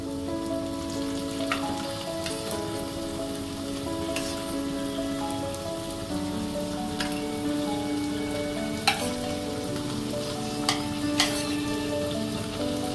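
Chopped tomato frying in a pan of masala, a continuous crackling sizzle with occasional spatula clicks and knocks, steady and close, with no speech.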